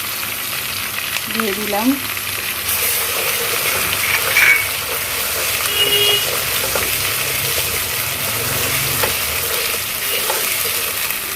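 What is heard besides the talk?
ginger and garlic paste frying in oil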